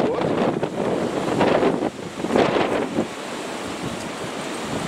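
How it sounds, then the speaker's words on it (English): A strong wind blows hard outdoors, roaring and gusting across the microphone. The buffeting rumble is loud and continuous, surging in waves with no speech. "must be an heck of a wind here"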